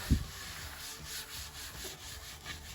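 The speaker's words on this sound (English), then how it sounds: "you just want to use a sponge with a good amount of grease cutting soap" A sponge loaded with grease-cutting soap scrubs a greasy surface, making a soft, steady rubbing swish in close, even strokes, with no voices.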